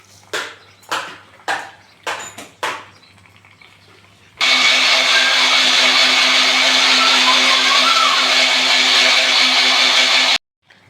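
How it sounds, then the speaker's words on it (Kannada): A mixer grinder roars loudly and steadily for about six seconds while grinding chutney, then cuts off abruptly, preceded by several short rattling knocks as the jar is handled. "ಇವಾಗ ಚಟ್ನಿನ ರುಬ್ಕೊಂಡಿದ್ದೀನಿ."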